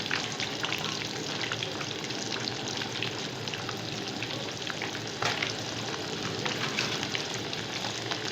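Masala fish pieces frying in hot oil in a pan, Lahori style, a dense, even crackling sizzle that holds steady throughout at moderate loudness.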